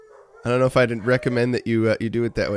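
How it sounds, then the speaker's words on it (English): Several dogs howl together in the distance, a drawn-out wavering chorus that runs underneath someone talking close to the microphone. "Oh, the dogs are singing their song up there."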